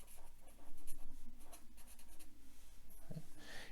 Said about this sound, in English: I will write measurement